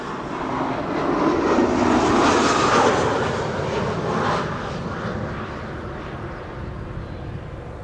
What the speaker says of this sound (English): First up, KLM flight 1818, Embraer 190, arriving from Frankfurt.